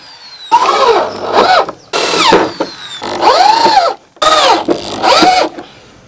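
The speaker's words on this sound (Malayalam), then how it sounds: "ഇനി നമുക്കിതൊക്കെ സ്ക്രൂ ചെയ്ത് വെക്കണം." A power drill driving screws into wooden pieces for a homemade electric cycle build, four loud close whirring bursts whose pitch rises and falls, separated by brief pauses.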